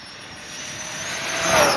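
A stock-motor Arrma Big Rock 3S RC truck running on 4S whines at a high pitch as its motor accelerates, with the tone rising and swelling louder over about two seconds.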